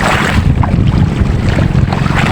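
A small boat moves across choppy sea, with gusting wind buffeting the microphone and water sloshing and slapping against the hull, loud and close.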